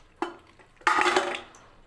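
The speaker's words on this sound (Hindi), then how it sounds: "सबसे पहले हम डालते हैं गोश्त" Pieces of mutton for korma drop into a metal pressure cooker: a short clank, then a louder clattering thud with a brief scraping rattle that fades, in a quiet kitchen.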